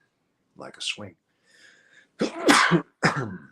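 A person sneezes once, sharply, with a brief inhaled buildup before it, followed by a couple of short spoken words nearby.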